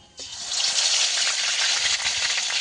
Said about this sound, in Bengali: পাঁচফোড়নটা একটু লাল লাল করে ভেজে নেব।